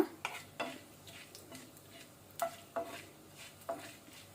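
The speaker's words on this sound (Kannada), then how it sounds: "ಈಗ ನಾವಿದನ್ನು ಮೀಡಿಯಂ ಫ್ಲೇಮಲ್ಲಿ ಸ್ವಲ್ಪ ಫ್ರೈ ಮಾಡುವ." Bay leaf frying in oil in a pan on a medium flame, a soft low sizzle with several light, evenly spaced spoon taps and stirs.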